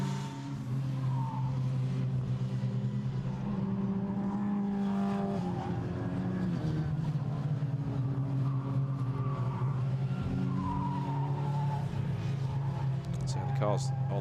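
Race cars on a formation lap at Donington Park circuit drone steadily in the background, with engines humming and rising slightly at times beneath continuous commentary.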